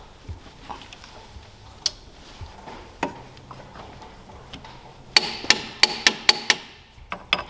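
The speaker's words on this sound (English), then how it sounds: "We're going to torque the dampener pulley bolt to roughly 90 foot-pounds." A torque wrench tightens the harmonic balancer pulley bolt on a Fox Body Mustang, giving a quick run of sharp, close metallic clicks near the end after quieter scattered taps.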